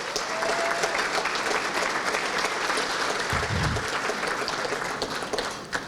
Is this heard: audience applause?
yes